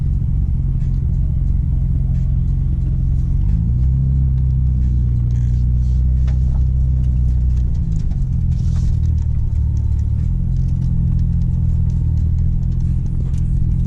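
A turbocharged Chevy SS 1500 pickup truck rumbles close by with a deep, steady low-pitched engine note, shifting pitch briefly a couple of times as it idles and moves on the street.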